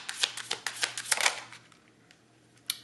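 Tarot cards are shuffled close up in a rapid run of crisp riffling flicks that fade out, followed by one last sharp snap of the deck.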